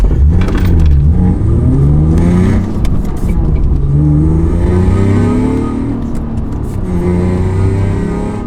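A 2000s Acura TL Type S sedan pulls away hard from a traffic light, its engine revving loudly through rising gear sweeps and shifts, heard from inside the car with no talk.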